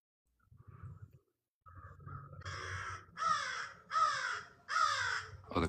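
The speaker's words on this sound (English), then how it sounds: "Hearing a crow." A crow caws four times in a steady series of loud, harsh calls, preceded by a softer, fainter call and some low background rumble.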